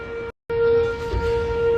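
Tornado sirens sound across Arno Sports Park in Easton, Illinois, a steady wailing tone that holds loud, drops out briefly near the start, then returns and carries on with outdoor background noise.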